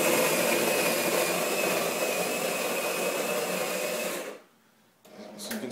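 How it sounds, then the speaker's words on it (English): A Jura ENA 4 coffee machine grinding beans, a loud steady whirring drone that cuts off abruptly near the end, followed by a brief silence and then a softer mechanical hum. "So I'm going to press the button and grind my beans."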